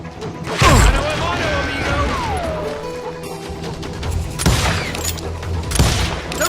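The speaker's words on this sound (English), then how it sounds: "They're shooting in the street!" Gunfire rings out on a street in the Western video game Call of Juarez Gunslinger: loud, sharp cracks with echoing tails, bursts near the start and again later, over a busy game soundscape.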